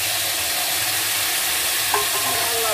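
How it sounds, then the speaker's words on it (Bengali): Water poured over red-fried moong dal in a pan hisses into a loud, steady sizzle close up, with faint stirring beneath it. "জল অ্যাড করে দেওয়া হচ্ছে এখন"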